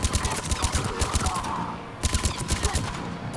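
Rapid bursts of automatic gunfire fill a Mass Effect 3 firefight, rhythmic repeated shots close and loud, briefly easing before another volley resumes.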